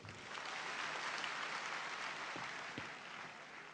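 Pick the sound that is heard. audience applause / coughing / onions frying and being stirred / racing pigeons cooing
audience applause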